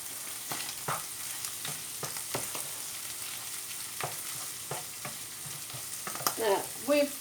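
Mince browning in a frying pan for stuffed aubergines with onions and tomatoes, a soft continuous sizzle punctuated by repeated scraping stirs, with a louder flurry of stirring at the end.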